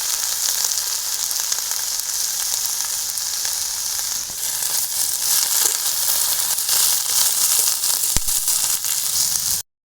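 Local greens with turmeric sizzle steadily and loudly in a hot pan, with occasional scrapes and stirring over the constant frying hiss and no talking.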